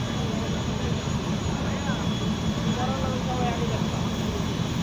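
A passenger launch drives its engine hard while overtaking other launches on a river, a steady loud drone with a heavy low rumble and rushing noise, close and continuous, with voices faintly underneath.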